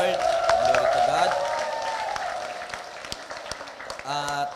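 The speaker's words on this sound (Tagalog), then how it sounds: "Sige po, yung malakas na palakpak bigay natin kay Lord." A church congregation at a Sunday healing service claps in a loud burst that gradually thins, then a voice speaks over the room.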